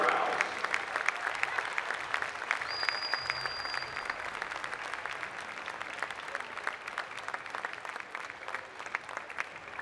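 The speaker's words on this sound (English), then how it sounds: "can we have another large round of applause for Alex, Angus, Corey, JB, and Ben Waterhou" A large crowd applauds continuously at a college women's basketball Senior Day, a dense, steady clapping that holds its strength for the whole stretch with faint voices mixed in.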